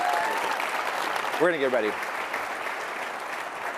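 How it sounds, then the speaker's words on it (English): Audience applause for hackathon teams after a two-day build, a sustained crowd clapping throughout, with a voice speaking briefly over it midway. "So just give that up for a round of applause for that."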